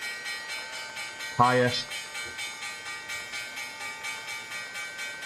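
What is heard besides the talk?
stock market opening bell ringing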